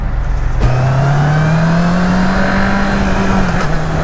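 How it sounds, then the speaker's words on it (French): A loud Honda CB650R four-cylinder motorcycle engine holds a steady, throaty drone, its pitch climbing slowly as it revs. The engine runs alone with no voices. "j'aime bien le bruit du 4 cylindres, c'est vraiment sympa"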